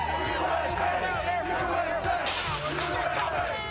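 An angry crowd of protesters, veteran groups among them, at the White House barricades: dense shouting and chanting voices close by, loud and continuous, with a voice speaking over the din.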